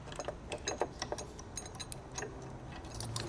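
A hook and bolt being hand-tightened into a roof rack tower on a bare car roof, giving a quiet series of small ratcheting ticks and scrapes, close and without talk.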